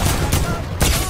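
Gunfire in a video game, a dense, loud burst of rapid shots that fills the whole clip, with a few distinct bangs near the start and end.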